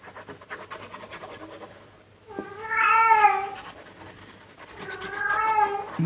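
A pet cat gives two long drawn-out meows a couple of seconds apart, close and fairly loud, preceded by soft scratching and rustling.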